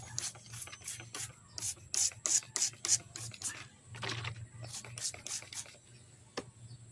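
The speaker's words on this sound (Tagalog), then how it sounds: "So, spray natin ng fungicide." A hand spray bottle mists fungicide onto Thai aglaonema plants in a garden, giving a quick series of short, crisp hissing sprays in an uneven rhythm, fairly close, with brief pauses between bursts.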